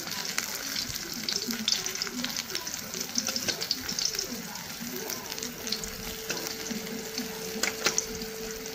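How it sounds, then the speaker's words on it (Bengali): Brinjal (eggplant) slices frying in a pan, with a steady close sizzle and crackle throughout, occasional stirring clinks, and a faint voice in the background. "গরম গরম বেগুন ভাজা করে নিচ্ছি।"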